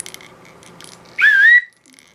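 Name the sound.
blowing a cheap little whistle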